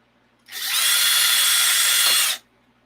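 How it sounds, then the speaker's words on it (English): A power drill whirs steadily for about two seconds while drilling holes in foam flooring, starting and stopping abruptly, loud and close with no talking. "I think I'm gonna drill the holes first so I have something to hold on to."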